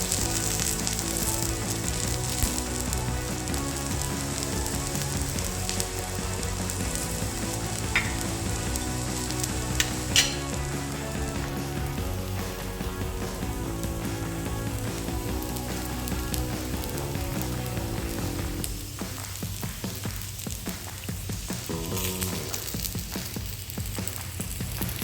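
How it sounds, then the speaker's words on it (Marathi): Ingredients roasting in a pan over a gas flame while making a drumstick curry, a steady close crackling sizzle with occasional stirring clicks, ending a little quieter, with no talk. "गॅस कमी जास्त करून आपल्याला हे भाजायचं."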